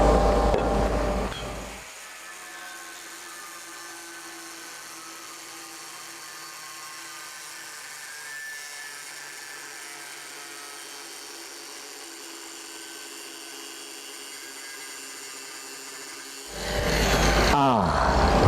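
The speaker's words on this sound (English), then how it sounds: "Switch over from my 1/4-inch grinding wheel to my cutting disc, and I'm going to grind along that line" Angle grinder fitted with a cutting disc grinding a line into metal during welding prep, a steady continuous high whine held for about fifteen seconds, close and loud, with brief talk at the start and end.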